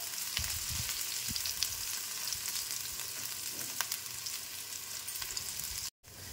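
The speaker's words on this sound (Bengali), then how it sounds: "খুব ভালোভাবে লাল করে নেব রসুনটা, পেঁয়াজটা।" Garlic and onion fry in a pan, giving a steady, moderately close sizzle with occasional stirring scrapes and light crackles, no voices, ending with a brief dropout.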